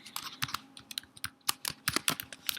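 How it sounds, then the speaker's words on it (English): A name being typed on a computer keyboard, a quick irregular run of close, crisp key clicks with no talking. "Type your name in it."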